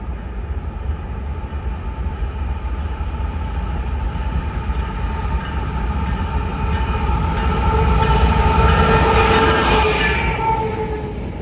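An eastbound freight train led by two Union Pacific heritage locomotives passes in Geneva, a steady heavy rumble of engines and rolling cars building in loudness toward the end and then easing slightly, with no talk.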